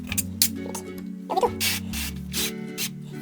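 Avocado oil sprayed from an aerosol can onto a baking mold in several short hissing bursts, close and fairly crisp, with small clicks and handling sounds in between.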